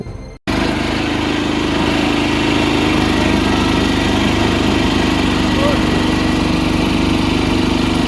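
A small boat's motor used to cross a narrow marsh. It starts abruptly after a brief quiet and then drones loudly and steadily up close for the rest of the clip, with a voice faintly beneath it.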